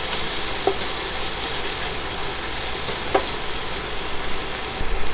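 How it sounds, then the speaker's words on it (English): Food sautés in a pan for a steak pan sauce, giving a steady soft sizzle and hiss with a couple of faint clicks of stirring, fairly close and without talk. "saute these for a couple of minutes"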